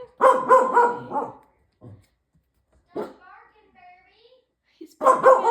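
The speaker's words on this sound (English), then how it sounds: "He's barking at his reflection." A dog barks at its own reflection, loud close bursts of several rapid barks at the start and again at the end, with quieter sounds and faint voices in between.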